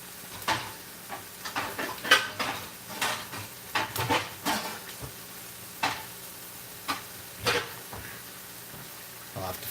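A large pan is handled on a stovetop during keto meal prep, with close metallic clanks, scrapes and knocks in an irregular rhythm over a faint background sizzle, and no talk over it.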